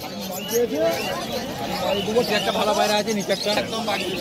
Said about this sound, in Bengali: মাকুয়া, চোখ কালো মাকুয়া পায়রা